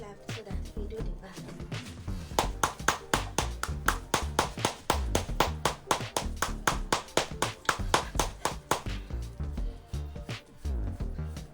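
Rapid rhythmic slaps of cupped hands striking a person's back during a massage, dozens of close, sharp percussive hits in a steady pattern that slows toward the end.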